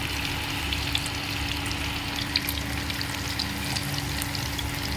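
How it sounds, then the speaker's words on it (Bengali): Food frying gently in a pan of oil, a continuous close crackling sizzle with tiny pops scattered throughout, even and unbroken with nobody speaking. "এই ফ্রাই করতে দিয়ে দিয়েছি"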